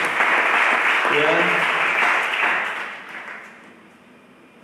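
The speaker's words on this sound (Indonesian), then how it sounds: "Saya minta tepuk tangan dulu bagi Tuhan Yesus Kristus." A church congregation at a Sunday service claps loudly and steadily, with a short spoken interjection partway through, and the applause fades away toward the end.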